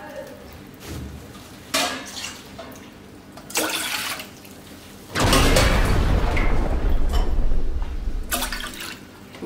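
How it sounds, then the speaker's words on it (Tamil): Water is poured into a pot for Arabic Sulaimani tea, starting with a few clanks and short splashes and then a steady, loud pour lasting several seconds close by. "மூணு கிளாஸ் தண்ணி ஊற்றிக்கலாம்."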